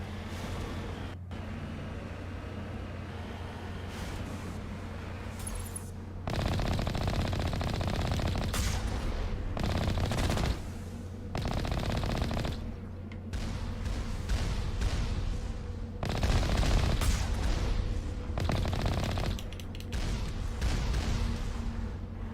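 Sustained automatic gunfire and heavy blasts from rockets in the Mass Effect video game, a loud, dense barrage with brief pauses and bursts of rapid shots continuing throughout.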